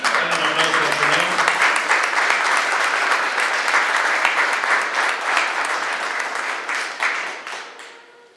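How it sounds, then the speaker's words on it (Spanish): A church congregation claps for the Lord, dense, loud applause that holds steady with a murmur of voices underneath, then thins out and fades near the end. "Dale un aplauso al Señor."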